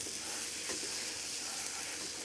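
Scrambled eggs sizzle steadily in a frying pan, a constant close hiss with faint stirring crackles and no talk.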